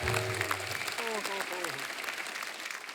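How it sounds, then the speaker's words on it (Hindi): Studio audience applause at a televised comedy tribute show, a steady broad wash of clapping throughout, with a voice talking over it briefly in the middle. "एक बार राजू भाई के लिए जोरदार तालियां।"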